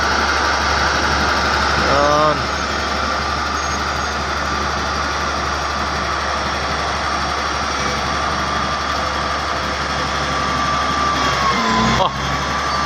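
A Shantui bulldozer engine roars steadily while pushing a fully loaded blade, a loud, continuous low drone that barely changes over time. Occasional distant voices talk over it.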